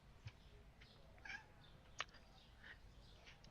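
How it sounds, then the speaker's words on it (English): A cat meows in the Supermarket Simulator video game, a few short, faint meows scattered over a quiet background. "Little meow just came into the house."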